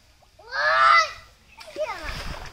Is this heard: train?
no